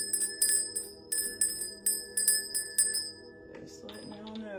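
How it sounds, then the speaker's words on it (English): A small hand bell is rung to cleanse the space, about eight bright, close, ringing strikes in a steady rhythm with long overlapping decays. A voice comes in as the ringing fades at the end. "I'm going to begin by cleansing the space with the bell."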